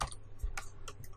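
Light typing on a computer keyboard, a few soft scattered key clicks in quick succession, faint and close, with no voices.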